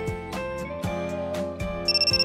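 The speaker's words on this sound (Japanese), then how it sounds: "ハンガーにかけてある制服から着信音が" A mobile phone ringtone plays from a school uniform hanging on a hanger in a visual novel, a bright repeating melodic tune with a chiming rhythm that keeps ringing.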